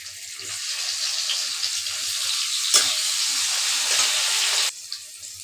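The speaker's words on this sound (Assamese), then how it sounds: "ঠিক এনেধৰণৰ মই বেঙেনাখিনিও ফ্ৰাই কৰি ল'ম।" Eggplant pieces frying in hot oil give a steady, close hiss and sizzle for several seconds, with one brief crackle partway through before the sizzle cuts off near the end.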